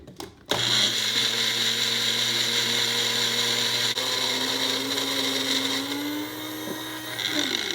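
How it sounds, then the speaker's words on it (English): A Magic Bullet countertop blender blends pumpkin custard steadily at high speed, a loud whirring high-pitched whine that stays level throughout after a brief start. "I'm going to use my magic bullet."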